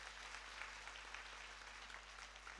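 At a Datta Jayanti festival with a Gurucharitra recitation, the crowd claps for the monastery's cook. The applause is a steady, even wash of many hands, faint and distant, with no voices over it.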